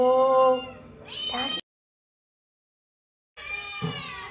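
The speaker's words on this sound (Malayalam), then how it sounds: "എന്താ കരച്ചിൽ അടി ബഹളം ഒക്കെ ആയിട്ടുണ്ട് കണ്ട എൻ്റെ പൂച്ചപ്പടകളാണ് ഇതൊക്കെ" Several cats meow and squabble over fish, with loud, drawn-out wailing cries close by, then a clear silence, then another burst of yowling.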